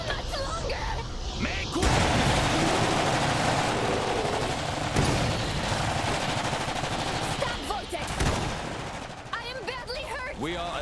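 Battlefield gunfire in the strategy game Iron Harvest: sustained machine-gun rattle and heavy shots roaring continuously, loud and dense, with other combat noise and brief chatter-like sounds near the end.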